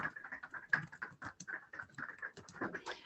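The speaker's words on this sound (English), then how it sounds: "As you can see, while you're talking, I'm typing." Quiet typing on a computer keyboard, a fast irregular patter of soft key clicks running steadily throughout.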